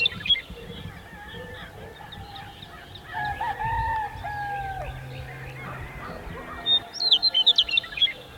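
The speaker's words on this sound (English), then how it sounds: "we can hear all of the birds chirping and the roosters crowing" Roosters crowing and birds chirping on a morning in Mexican wine country, with several drawn-out crows and scattered tweets at moderate distance over faint outdoor ambience.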